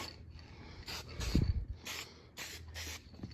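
Spray paint hisses from an aerosol can in several short bursts while coating parts of a vintage Delta DP220 drill press being restored, with brief pauses between passes and a low thump in the middle.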